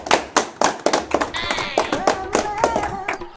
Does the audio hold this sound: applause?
yes